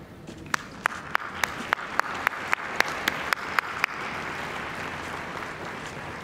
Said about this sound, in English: Please feel free to give full applause to each of these outstanding coaches as their names are called and they cross the stage